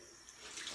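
A tap runs into a sink at home on a winter day, making a soft, steady splashing rush that sounds close but quiet. The stream lasts under a second and no one speaks.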